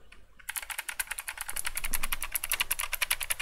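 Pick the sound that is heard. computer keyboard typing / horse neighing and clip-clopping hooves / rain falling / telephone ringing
computer keyboard typing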